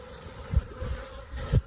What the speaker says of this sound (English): give them a quick shake to get the bees out